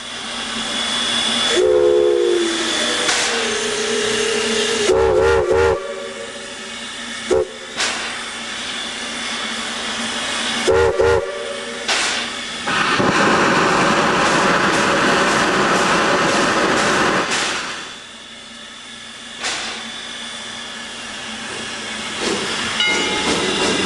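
A Heisler geared steam locomotive, number 2, on a mountain railway gives several sharp whistle blasts between loud bursts of hissing steam, then chuffs and hisses as it pulls away, the noise dropping briefly before building again.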